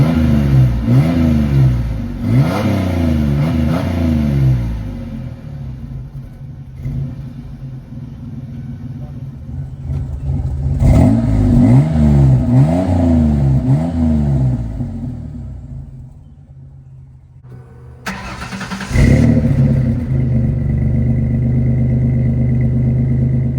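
A Ford Aerostar van engine revs hard in repeated rising bursts, a loud close rumble that settles to idle between pushes and briefly dies down before roaring again.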